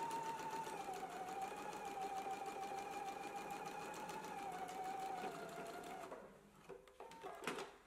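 A sewing machine stitches a garment side seam at a 5/8 inch allowance, a fast steady whirring hum running for several seconds before slowing and stopping with a few clicks near the end.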